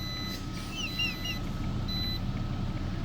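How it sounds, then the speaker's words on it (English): Inside a truck cab, a power-hungry heater sets off a short run of faint electronic beeps over a steady low hum. "that's why there's a beeping sound, because apparently this thing, I don't know, pulls a lot of wattage or something"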